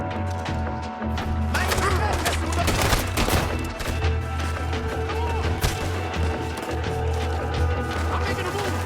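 Gatling gun fire during a shootout at a house veranda in Red Dead Redemption 2, with dense rapid bursts over a continuous loud mix of game sound and low rumble.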